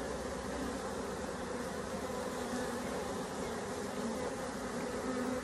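Steady, dense buzzing of a honeybee swarm clustered beneath a bin lid in the rain, a continuous close drone that holds at an even level for the whole stretch with no voices.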